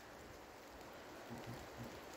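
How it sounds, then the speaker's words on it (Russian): Light rain falls in a forest, a faint, steady soft patter with a few slightly louder drops near the end and no voices. "Идет дождик небольшой, погода мне такая нравится."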